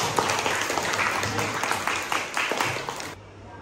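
Audience applause follows a lesson on anecdote texts in dialogue form, a dense steady patter of many hands that stays loud for about three seconds and then cuts off abruptly.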